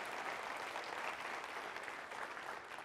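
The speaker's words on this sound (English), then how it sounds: "So give yourselves a round of applause for the great work that you've done." An audience at a university convocation applauds, a dense steady wash of clapping from many hands filling the room at moderate volume for about three seconds.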